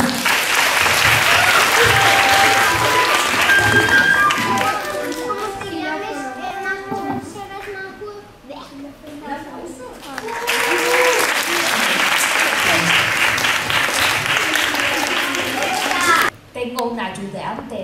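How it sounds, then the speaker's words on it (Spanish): Loud audience applause at a municipal music school student performance for World Flamenco Day, with a lull where children's voices chatter and call out before the clapping surges again and then cuts off sharply. "Un aplauso, por favor."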